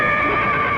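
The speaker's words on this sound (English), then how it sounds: "I thought I heard a horse" A horse gives a single loud, close whinny, its high shaky call ringing out alone for under a second on a cold winter day.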